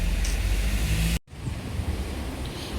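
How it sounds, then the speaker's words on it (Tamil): Strong wind in Seychelles roars against the microphone in heavy gusts, briefly dropping out for a moment before the loud, steady rush resumes. "எப்படி காற்றடிக்குது பாருங்க"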